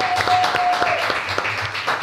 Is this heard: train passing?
no